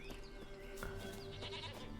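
A goat bleats in The Witcher 3 with the W3EE mod, a few faint, wavering cries over a steady low game ambience, with no speech.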